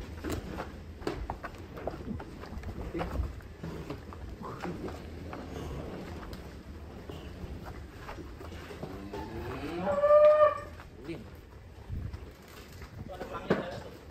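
Cattle in a cow pen in Sentul, Bogor, including a 1.3-tonne cow; one long, loud moo rises about two-thirds of the way through amid people talking, shuffling hooves and footsteps.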